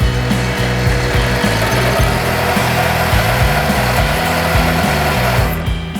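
A metal lathe taking a heavy one-millimetre cut produces a loud, continuous grinding and rumbling drone with a steady pulsing chatter, running without a break until it begins to cut out right at the end.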